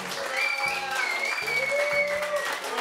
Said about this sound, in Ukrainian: Ваші аплодисменти татам з нами.